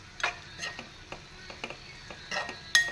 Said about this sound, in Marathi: आता हे मस्तपैकी असं ढवळायचं आणि गॅस बंद करून टाकायचा.